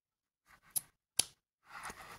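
Two crisp snips of scissors cutting material for a model horse halter, close and quiet, followed by a brief rustle of the material.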